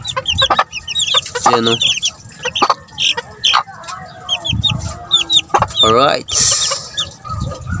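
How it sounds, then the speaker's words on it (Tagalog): Chickens around a newly hatched chick, game fowl in a small backyard flock, give repeated clucks, chirps and a loud squawk, close and busy, with someone speaking briefly among them. "So may bago siyang sisiw."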